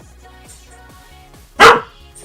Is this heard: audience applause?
no